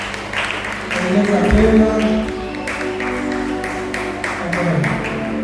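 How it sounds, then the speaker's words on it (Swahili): A church congregation claps for an arriving singer, producing a lively patter of hands under voices speaking and a low musical hum. "Anapokuja pigia makofi mengi na vigelegele."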